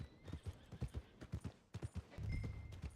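Horse hooves clip-clopping in Red Dead Redemption 2, a close steady walking rhythm of distinct hoof strikes, briefly joined by a low snort or whinny toward the end.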